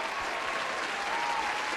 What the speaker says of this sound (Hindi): प्लीज तालियां बजा दीजिए